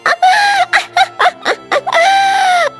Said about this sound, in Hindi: राजकुमारी अपने भाई को मृत देखकर रोने लगती है।